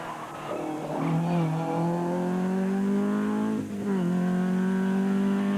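A Ford Escort rally car with a 2.1 litre engine on a rally stage, its engine note rising and holding high, with a brief dip as it shifts, then climbing again close by.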